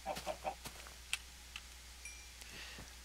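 Chickens cluck in a snowy biome in a survival video game: a few quick, quiet clucks in the first half-second, then scattered faint ticks over a low background hum.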